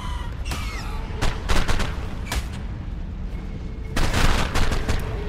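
Gunfire from a creature in the ARK video game: several sharp, loud shots in quick clusters, with rapid bursts near the start and again toward the end over a low rumbling game background.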